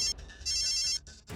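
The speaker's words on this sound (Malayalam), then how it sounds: "റിംഗ് ആവുന്നുണ്ട്." A telephone rings in short repeated electronic pulses with brief gaps between them, loud and close over light background noise.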